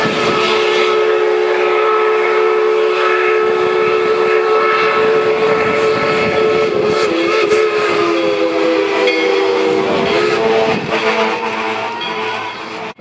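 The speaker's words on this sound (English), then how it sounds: "I can hear the bell. I can hear the train." A heritage steam train rumbles past close by, its bell ringing and its whistle sounding long and steady over the clatter of the rails.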